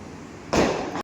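A single sharp firecracker burst during Diwali Lakshmi Puja celebrations, sudden and loud against a quiet background, followed by a noisy decay lasting about half a second.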